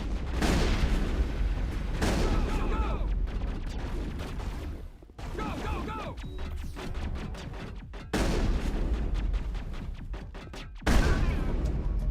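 Sustained gunfire and explosive bursts from a Mass Effect firefight fill the scene, dense rapid shots in several loud waves with brief lulls between them, all close and continuous.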